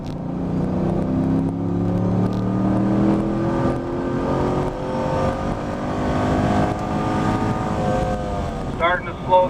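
A Camaro or Corvette on the Spring Mountain Motorsport Ranch race track, its engine droning loud and close throughout. The engine note falls steadily as the car brakes and slows into a turn, with wind buffeting over the sound.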